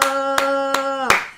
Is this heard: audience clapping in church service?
yes